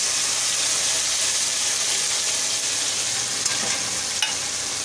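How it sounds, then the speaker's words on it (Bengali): Continuous loud sizzle of potatoes frying with spices, a dense hiss with a couple of faint clicks of stirring, no voices. "আলুটা ভাজা হচ্ছে।"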